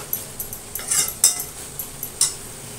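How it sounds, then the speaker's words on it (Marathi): Kantholi, a wild medicinal vegetable, being mixed with salt in a cooking pot, giving a series of light, scattered clinks and scrapes of a utensil against the pot at an uneven pace, fairly close and soft. "पूर्ण आता मिक्स करून घेऊया"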